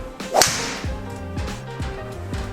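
A fairway wood strikes a golf ball during a club fitting, giving one sharp, loud crack followed by a brief swish and a fading ring, with no voices.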